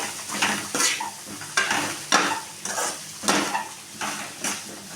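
A spatula stirs and tosses boiled, chopped potatoes with spices in a pan for a Tamil Nadu style potato fry, giving repeated scraping strokes about every second over a soft frying sizzle, with no talk.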